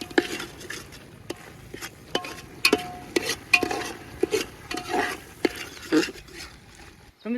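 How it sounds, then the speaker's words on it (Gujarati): Spices including salt, turmeric, chili, paneer masala, coriander-cumin powder and garam masala stirred into palak paneer in a pan, a spoon repeatedly scraping and clinking against metal in an irregular rhythm over a soft sizzle. "હલાવી દઈશું."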